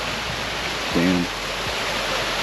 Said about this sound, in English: I can hear the waterfall